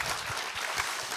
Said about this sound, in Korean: 큰 박수로 한번 쳐서